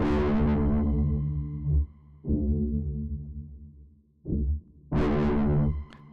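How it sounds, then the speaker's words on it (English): Heavily distorted plucked dombra notes ring out in a few bursts, gritty and buzzing, each sustaining then cutting off, played alone. "That might be a screamer. Yeah, distortion."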